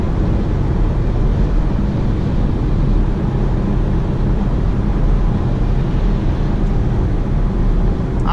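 A Porsche Macan GTS accelerates hard in third gear, a steady loud engine drone with heavy low rumble and wind roar filling the whole stretch, no talk over it.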